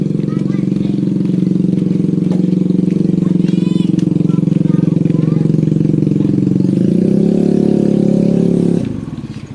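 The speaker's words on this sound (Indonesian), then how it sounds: "Pakai motor aja tadi gak naik teman-teman" A motorcycle engine revs hard and steady for several seconds while struggling up a steep village slope, loud and close, then cuts off near the end; a voice talks faintly at moments.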